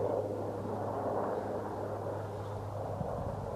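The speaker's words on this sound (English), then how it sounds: "There's this helicopter going across over there." A helicopter crosses the sky over a mountain summit, heard as a faint, distant, steady drone with a low hum beneath a broad wash of noise and no voices.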